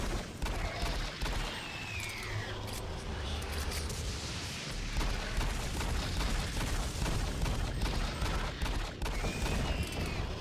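Gunfire and fireballs in the game DOOM Resurrection of Evil: dense, continuous bursts of shots and crackling impacts with booming blasts and whooshing projectiles, loud and busy throughout, with no voices over it.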